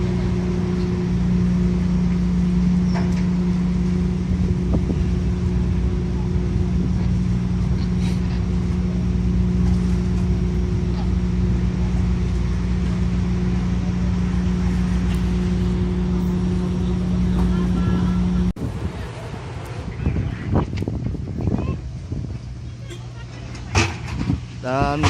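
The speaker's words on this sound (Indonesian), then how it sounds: "Mobilnya udah mulai jalan lagi." Cars rolling off a ro-ro ferry after it docks at Bengkalis, a steady engine drone and low hum that cuts off abruptly, followed by scattered closer mechanical noises and clatter with voices nearby.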